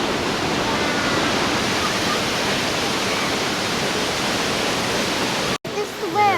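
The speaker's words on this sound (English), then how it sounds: "That's a cool waterfall. It's right in the middle of town." A waterfall in the middle of a town roars as a steady, loud broadband rush, broken by a brief dropout near the end before the splashing flow returns.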